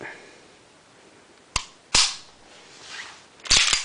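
Sharp mechanical clicks from the trigger pull and reset of a Rock Island Armory pistol fitted with an STI trigger: two isolated snaps, then a quick double click near the end, with no talking.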